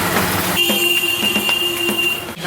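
Indian passenger train at a station or on the line, with a sustained high horn-like whistle tone and steady rumbling rail noise throughout, loud and close.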